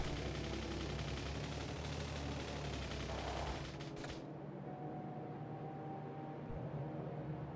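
Concussive turrets in the Factorio video game fire steadily at attacking enemies on a northern border, a dense continuous rattle of gunfire that dips slightly midway and then carries on without a break.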